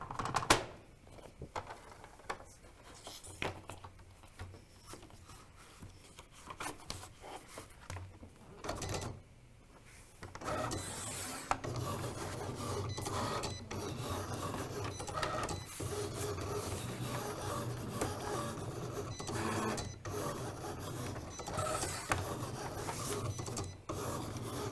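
A Cricut cutting machine works through a sheet of paper, giving a busy run of mechanical whirring, clicks and carriage movement that turns steadier and louder about halfway through, with no voices.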